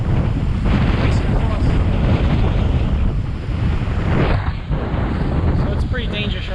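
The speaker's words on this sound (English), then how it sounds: "Right now the wind is about 2 miles an hour right here." Tropical storm winds from the ocean in Bensonhurst, Brooklyn, roar without a break, buffeting the microphone hard with loud rushing gusts.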